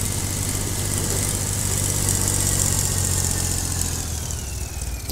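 A Swaraj 855 tractor in Farming Simulator 22 drives with a steady, loud diesel drone that climbs slightly in pitch as it pulls in third gear, continuous and close with no talk.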